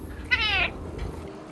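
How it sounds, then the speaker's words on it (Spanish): A female cat gives one short, clear meow close by, a bright tonal call lasting about a third of a second over quiet room tone. "Esta es mi linda gatita."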